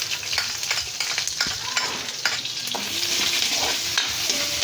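Ingredients for pancit stir-frying in a hot pan, a continuous loud sizzle broken by frequent scraping strokes and clinks of the spatula against the pan, close and steady with no talking.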